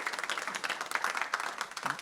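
An audience at a talk on being a digital nomad claps briefly, a dense patter of many hands at moderate distance.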